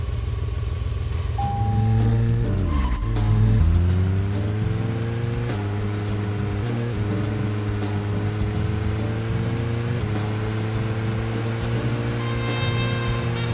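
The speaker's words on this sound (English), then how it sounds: "Now, get the car going." Engine of a car in the video game Deadly Premonition drones steadily, pitch climbing and shifting as it accelerates away, with a continuous hum and no talk.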